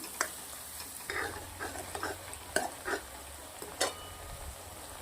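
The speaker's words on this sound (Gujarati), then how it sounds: "ડુંગળીને ઘીના અંદર સરસ મજાની શેકવાની છે પહેલાં બે મિનિટ શેકી દેવાની છે" Chopped onion with ginger garlic paste fries in ghee in a pan, a soft steady sizzle broken by several scraping stirs of a spoon, close and fairly quiet with no talking.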